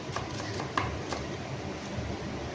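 A knife chops onion on a cutting board, giving light, evenly spaced taps against a soft kitchen background.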